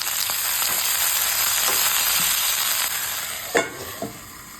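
Loud steady sizzling of bottle gourd stems and potato pieces frying in oil with turmeric and salt, close up, with a few sharp spatula knocks near the end and no talk.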